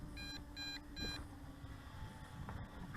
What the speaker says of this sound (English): first phase of low voltage return to home indicator beeping away